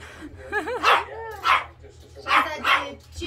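A pet dog gives about five sharp barks and yips in loose pairs, close and fairly loud, over a steady low hum.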